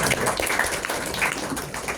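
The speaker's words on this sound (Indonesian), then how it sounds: "Tepuk tangan dong." Audience applause at an interactive dialogue on nationalism, a loud, dense, continuous patter of many hands lasting about two seconds without a clear voice.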